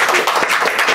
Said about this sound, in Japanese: 拍手ありがとう。